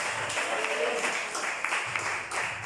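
Brief, moderately loud applause from a church congregation during a sermon, a dense patter of clapping that continues for a couple of seconds with no speech over it.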